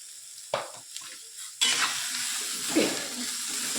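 Crackling sizzle of mustard seeds frying in hot oil, loud and continuous after a couple of sharp taps and scrapes.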